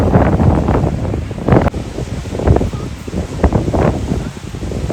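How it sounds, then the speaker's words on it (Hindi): Strong ocean waves crash and churn at Fistral beach in Cornwall, with heavy wind buffeting the microphone in loud gusts and someone talking over the surf. "अभी देखो तेज लहरें हैं, पूरा समुंदर क्रॉस कर रहे हैं"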